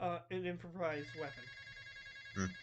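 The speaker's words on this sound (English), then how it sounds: "Sorry about the phone." A telephone rings during a tabletop role-playing game, a steady electronic ringtone sounding after and under people talking at the table.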